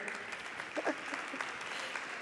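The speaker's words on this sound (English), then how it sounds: "We can all applaud them." Applause from a conference audience greeting a panel moderator and a city mayor, a dense steady patter of many hands at moderate level with a faint voice briefly rising above it.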